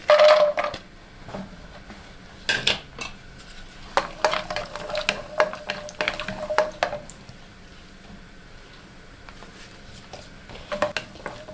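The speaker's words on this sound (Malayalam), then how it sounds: "ചൂടായ എണ്ണയിലേക്ക് കാഷ്യൂനട്ട് ഇട്ട് കൊടുക്കാം" Cashew nuts frying in hot oil and cow's ghee for mutton dum biryani, with a loud hiss at the start and then intermittent crackles, scraping stirs and clinks of a utensil against the pan.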